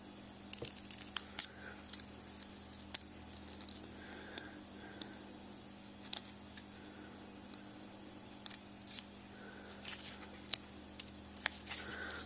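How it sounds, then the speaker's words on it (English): Scissors snip paper at an angle to shape a banner for a handmade gnome card, making quiet, repeated crisp cuts in irregular bursts, close up in an otherwise hushed room. "And cut it at an angle to give it the banner look."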